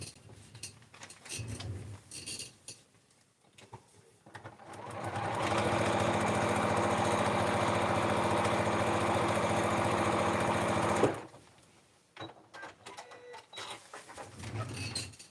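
A sewing machine runs steadily for about six seconds, stitching fabric with a loud, even mechanical whir, framed by quieter handling sounds before and after.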